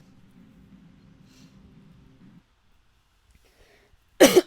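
An esports commentator at a World of Tanks Blitz tournament clears his throat in one sharp, loud burst near the end, after a faint low murmur and a stretch of near silence.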